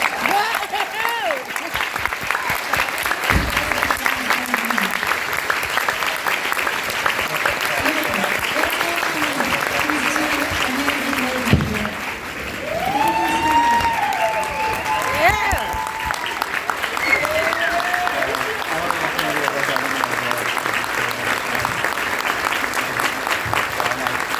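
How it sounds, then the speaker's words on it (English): Applause rises and holds from an audience at a live Q&A event. The clapping is steady and sustained, with voices talking and calling out over it. "clap for him now."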